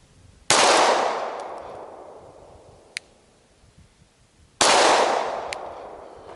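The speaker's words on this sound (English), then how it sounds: "We would start it off with a handgun shot, which is going to be one heck of a shot from this distance." Two sharp handgun shots ring out about four seconds apart, each a loud crack fading into a long echoing decay across open ground, with a faint distant clang of a steel target between them.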